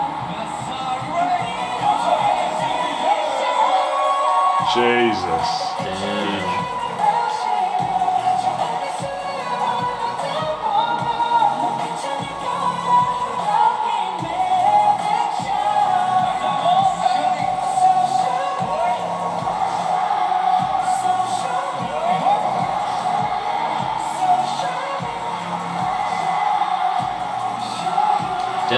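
Stadium crowd at a concert, a sustained roar of cheering and screaming from thousands of fans that stays loud throughout, with people talking and exclaiming over it close by.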